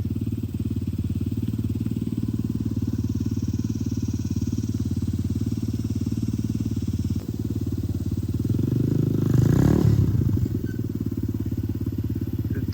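A pit bike's small single-cylinder engine runs steadily in first gear, a close, continuous low putter that swells briefly louder near the end before settling back, with no talk over it.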